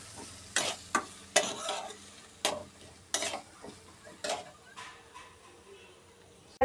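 Chopped onion and green chili frying in oil for egg curry, a sizzle broken by a series of sharp clattering stirring strokes at an uneven rhythm, close and fairly loud.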